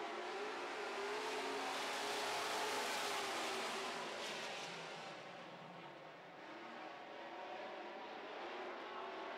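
A pack of super stock race cars roars away at the start of a race, their engines a dense, sustained, fairly distant drone that dips briefly midway.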